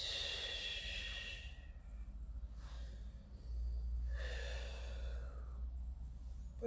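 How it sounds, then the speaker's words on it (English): Slow, deep breaths during a Pilates session: long airy inhales and exhales in two or three broad swells, close and fairly soft over a steady low room hum, with no talking. "Nice deep breaths."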